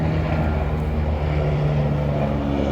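A helicopter flies overhead, a loud, constant engine drone with a low rotor hum staying close and steady throughout, drowning everything else out.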